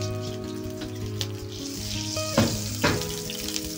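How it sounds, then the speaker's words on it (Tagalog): Garlic sautéing in a pan for Chinese-style stir-fry pork, a soft continuous sizzle with a couple of sharper clatters or splashes near the end, and no talking. "I-glance ko muna itong garlic"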